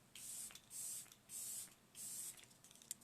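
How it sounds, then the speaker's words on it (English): Makeup setting spray mists from a pump bottle in three even hissing bursts, each about half a second long, close and crisp with quiet pauses between. "Now I'm going to do some setting spray."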